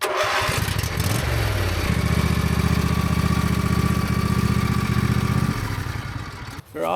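A Husqvarna lawn mower engine cranks and fires into a loud, steady, close running roar that holds for several seconds and then cuts off near the end.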